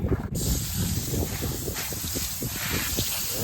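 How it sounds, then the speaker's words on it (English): Water sprays down onto a compost pile in a steady close hiss, with soft rustling and shuffling underneath and no talk. "we're just gonna spray it down like we always do"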